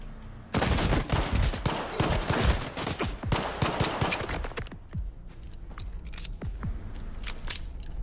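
Dense bursts of gunfire in the video game STALKER 2, rapid cracking shots rattling loud and close for several seconds, then thinning to scattered single reports and distant pops.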